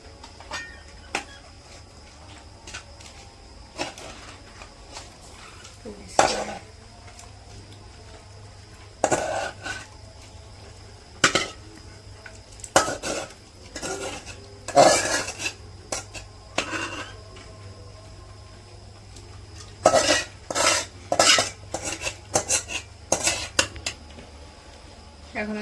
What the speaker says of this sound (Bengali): তো এখন হচ্ছে যে মাংসগুলো দিয়ে দিই।